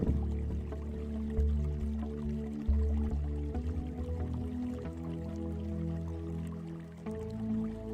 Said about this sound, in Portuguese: Agora vamos adicionar 40 ml de água para o nosso experimento.